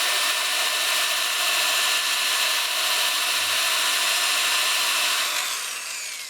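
Steady, even hiss of 120 grit sandpaper against a spinning wooden bowl on a woodturning lathe, holding constant before easing slightly at the end, with no talking.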